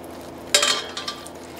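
A spoon stirs mushroom risotto with arborio rice in a pan, giving a brief scraping swish with a couple of soft clinks that fade quickly, close and alone.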